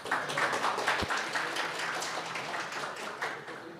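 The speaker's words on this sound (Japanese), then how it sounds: "皆さん拍手でお迎えください" Applause from a conference audience greeting a speaker at a Python developer event, a steady wash of many hands clapping at moderate distance, fairly quiet, with a single sharp knock near the start.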